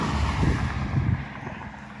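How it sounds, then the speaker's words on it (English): Wind from the south gusts across an open outdoor spot near a big blue spruce, a steady low rumble on the microphone that swells twice before easing, with no voices. "The wind as it's working right now is coming almost directly out of the south."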